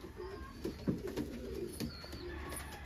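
Homing pigeons cooing in a loft, soft low murmuring coos repeating irregularly close by under a faint ambient hiss, with no talking.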